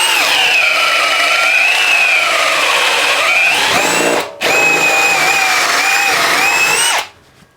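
Bosch BiTurbo 18V half-inch hammer drill boring a hole with a 1-inch auger bit, a loud close whining motor that strains and bogs, stops briefly, then surges again before cutting off.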